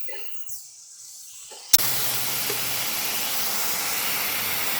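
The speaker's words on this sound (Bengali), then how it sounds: "এই ফেটে নেওয়া মোচাটা এবার এটাকে আমি ভালো করে কষিয়ে নেব।" Chopped banana flower hits a hot pan with a sudden loud burst, then settles into a steady, even hiss of sautéing that runs to the end.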